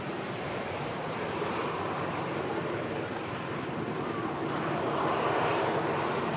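A Ryanair Boeing 737-800 airliner touches down at Manchester Airport, a broad distant roar of engine and rushing air that stays steady and builds slightly toward the end.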